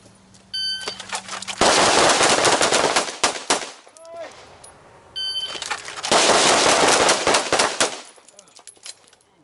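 Pistols fire on an outdoor shooting range in two long volleys of rapid, overlapping shots from several shooters, loud and close, with a short pause and beeps before each string.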